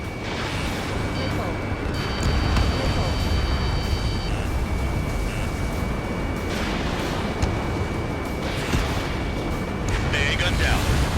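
Anti-aircraft gun blown apart by explosions in Ace Combat 7 during a pipeline destruction mission, a dense continuous rumble of blasts and booms over steady jet engine roar, loud and sustained throughout.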